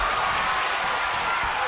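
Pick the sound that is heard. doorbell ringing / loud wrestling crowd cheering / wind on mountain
loud wrestling crowd cheering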